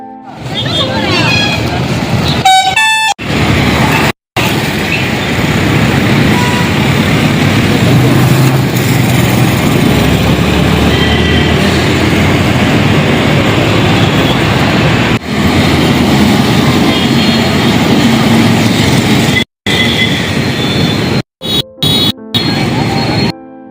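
Heavy traffic of two-wheelers and cars speeding along a national highway near a school, a continuous dense roar of passing engines and tyres with several abrupt breaks in the sound.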